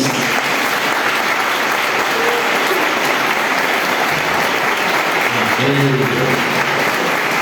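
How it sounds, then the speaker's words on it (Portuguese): Steady, dense applause from a church congregation at a Baptist service, sustained and loud across the whole stretch, with faint voices mixed underneath. "Uma salva de palmas para Jesus"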